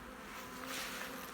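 Honeybees shaken out into a grafting box hum in a steady, close, continuous drone with no talk over it.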